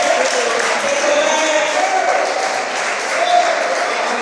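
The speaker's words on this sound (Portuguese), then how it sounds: "Você pode louvar a Jesus com as palmas bem alegres essa noite" A church congregation claps joyfully in praise during an evening worship service, a continuous even roar of applause, with a faint voice and some tonal sound beneath it.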